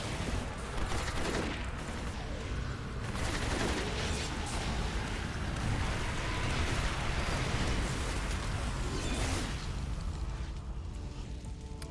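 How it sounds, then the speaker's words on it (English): A building blowing up in a video game: a dense, continuous roar of blasts and rapid gunfire-like crackle, loud and sustained for the full stretch with no pause. "And the whole building's blowing up."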